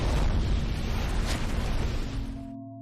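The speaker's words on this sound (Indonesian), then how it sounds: "ia menemukan sebuah bom dan tak sengaja menjatuhkan pemicu bomnya, yang membuat bom tersebut meledak dan Krang hancur berkeping" A bomb detonates in a film scene, a loud sustained roaring blast with deep rumbling that rolls on for over two seconds before cutting off abruptly into quiet.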